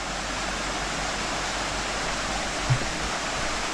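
Steady broadband rush of a river side stream flowing along a hiking route between Aubonne and Nyon, a continuous even wash of water with no voices.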